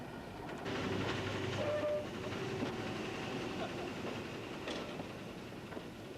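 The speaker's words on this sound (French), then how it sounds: "devait à l'origine faire monter ce train à crémaillère jusqu'au sommet du Mont Blanc" Mont Blanc Tramway rack railway train running from Le Fayet, a steady rumbling rolling drone with faint squeals, fairly loud and continuous throughout with no talk.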